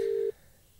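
A single steady tone from a phone call ringing out over a radio line, lasting about a third of a second before cutting off to quiet line noise.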